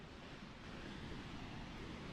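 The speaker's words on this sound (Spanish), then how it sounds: "Esta cascada proviene del río Paine." Paine waterfall on the Paine river in Torres del Paine, Chile, pours with a steady, dense roar of rushing water that stays constant and fairly close throughout, with no voices.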